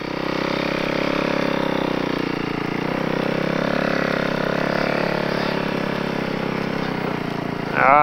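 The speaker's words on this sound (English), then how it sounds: "I gotta smell the two-stroke. Following the snowmobiles." Several snowmobile two-stroke engines drone steadily as they are followed along a snowy route in sleet, a continuous loud buzzing engine noise with a brief sharper rise at the end.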